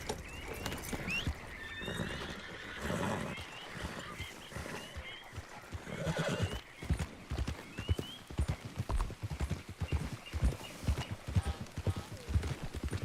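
Horse hooves clip-clop steadily in the video game Red Dead Redemption 2, a rhythmic run of close, distinct hoofbeats with wild bird calls and honks in the background.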